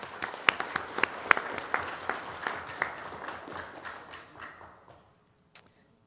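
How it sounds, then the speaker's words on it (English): Applause from the audience at a county fiscal court meeting, scattered sharp claps in a modest room that thin out and fade to silence, with one last clap near the end. "let's give Nancy a round of applause"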